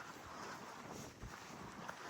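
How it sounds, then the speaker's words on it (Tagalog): Steady wind buffets the microphone with a constant low rumble and hiss, outdoors, with no voices. "Mahangin pa."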